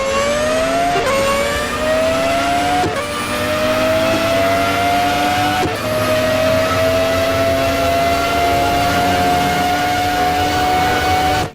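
A Ferrari 412 T2 Formula One car's engine screams at high revs in a racing game at Le Mans, a loud sustained whine rising steadily through upshifts, with brief dips at each gear change and no talk.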